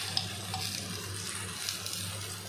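Mustard greens stir-fry in garlic oil with a soft, steady sizzle and faint stirring scrapes, quiet and without talk.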